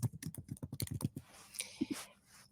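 Quick bursts of keystrokes on a computer keyboard, about a dozen close, crisp clicks in a fast run, then a couple of scattered taps, faint and close up.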